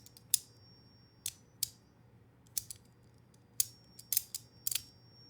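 Iron Curtain metal fidget toy set to its tactile mode, giving sharp, dry clicks, single and in quick pairs and triples, close up against a quiet background.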